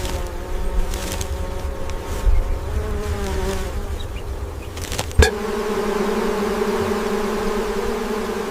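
Flies buzzing steadily around a buffalo, a dense insect drone close by with wavering pitch, continuous throughout with one brief thump.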